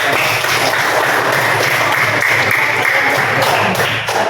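A classroom of students claps for a group, a brief burst of dense, scattered hand claps with tapping thumps, close and fairly loud, fading slightly toward the end.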